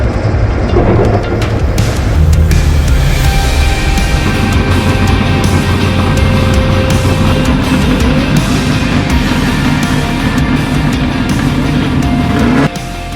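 Chevrolet Corvette driven by Matt Field drifting at Road Atlanta during a qualifying round, a loud continuous engine roar with tire noise that never lets up, heard from trackside with faint commentary beneath.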